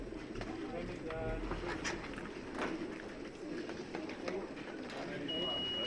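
Racing pigeons coo softly in baskets during race basketing, low murmuring calls under a busy, noisy room with people talking nearby.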